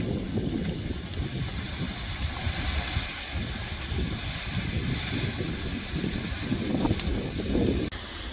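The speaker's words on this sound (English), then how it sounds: "you can see it's a pretty good wind here" Wind gusts over a forest during a prescribed burn, a steady, fairly loud low roar and buffeting rumble with hiss, continuous throughout, without talk.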